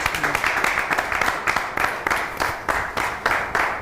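A studio audience claps steadily for guest Fred le suspect arriving on a talk show, a loud, dense wash of applause with rhythmic surges throughout.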